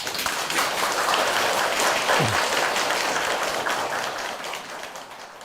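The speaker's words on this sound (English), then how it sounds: "Let's welcome our teacher with the warmest applause and pure, sincere hearts" Warm audience applause welcomes a teacher to a talk for EMBA students, a thick, even wash of many hands clapping that holds steady, then slowly thins and softens toward the end.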